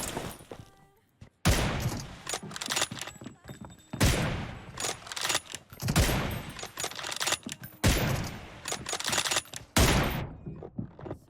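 Bursts of rapid gunfire from a PUBG Mobile 1v1 match, loud and dense, arriving in repeated volleys about every two seconds with brief gaps between them.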